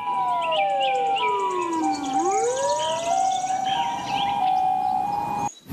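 A toy ambulance siren wails in electronic sweeps, falling then rising in pitch, with chirpy beeps layered over it, loud and close, stopping abruptly.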